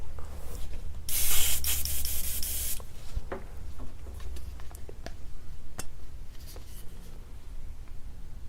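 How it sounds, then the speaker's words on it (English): An airbrush sprays body paint in a short, loud, close hiss of about two seconds, followed by quieter handling clicks and taps. "Let's fire up another airbrush just for a little bit of this."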